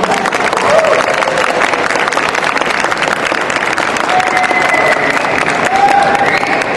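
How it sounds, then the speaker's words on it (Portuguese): An audience at a Campus Party Brasil presentation session gives a loud, sustained burst of clapping. Scattered cheers and shouts rise above the even applause throughout. "Eu gostaria que as pessoas que acharam interessante e relevante a apresentação dela se manifestassem com palmas"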